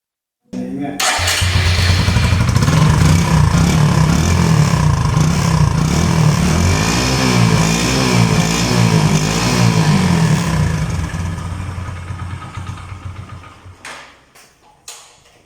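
A used Hero Glamour 125 motorcycle starting up and idling close by, a loud, steady thumping single-cylinder engine with a slight rev wobble midway, then fading out and stopping with a few clicks.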